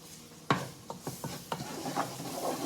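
Chopped peppers and onions dropped into a hot roux for chicken and sausage gumbo, with a sharp first hit and then several quick scraping stirs, close and fairly quiet, no voices.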